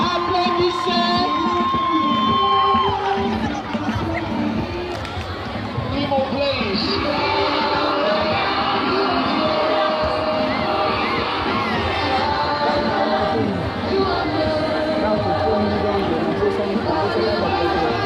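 Students at a school student committee investiture ceremony cheer and shout in a loud, sustained crowd roar, with children's whoops and chatter mixed throughout and little clear clapping standing out.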